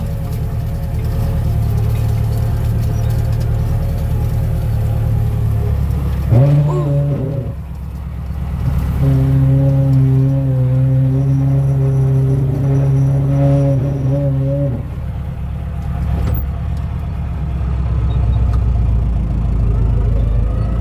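A tractor engine runs steadily while turning straw windrows in a field, a loud, close droning hum that rises in pitch under load for a few seconds, then settles back, with wind noise.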